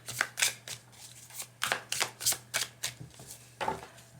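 Tarot cards being shuffled in a series of quick riffling bursts, close and fairly clear, with short pauses between handfuls and no talking.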